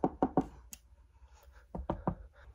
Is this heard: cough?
no